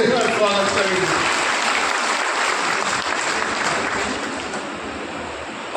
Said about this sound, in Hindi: मोदी जी के लिए तालियों के साथ स्वागत करेंगे।